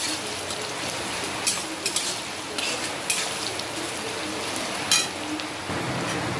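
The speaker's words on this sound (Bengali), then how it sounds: "পেঁয়াজটা ভাজা ভাজা হোক" Onions sizzle in hot mustard oil in a wok, a steady crackling fry with occasional scrapes and stirring clinks, close and continuous with no talk.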